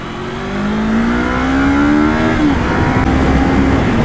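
A 2020 Yamaha YZF R3 sport motorcycle on a road test ride, its engine note rising steadily as it accelerates, loud and close, then holding a high steady drone with wind noise, no talk.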